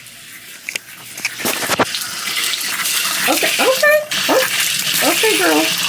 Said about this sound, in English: Wait, I hear the water.